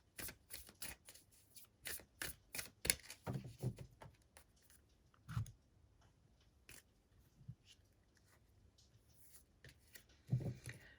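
Herbal astrology cards being shuffled close up, a quick series of crisp riffling snaps followed by scattered softer card flicks and taps in a quiet room.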